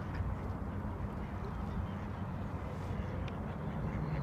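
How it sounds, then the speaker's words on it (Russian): Ducks quack faintly and at a distance over steady ambient noise by a wide river on the Pavshinskaya floodplain embankment in Krasnogorsk. "Утки, утки кричат вовсю."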